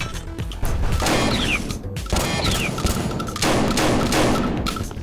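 Shotgun alternate fire in the video game Ctesiphon: three heavy, thudding blasts spaced about a second apart, each a loud percussive crack with a short mechanical tail.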